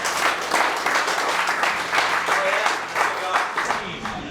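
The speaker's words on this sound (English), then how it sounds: "Give yourselves a round of applause." A crowd at a Middle-earth tabletop game tournament applauding steadily, with dense clapping that keeps an even level throughout and fades slightly toward the end.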